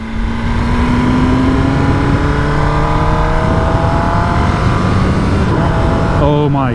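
A 2023 ZK-10RR sport motorcycle rides through a neighborhood, its engine a loud, continuous drone rising steadily in pitch as it accelerates, with a quick gear change near the end and wind rushing over the recording.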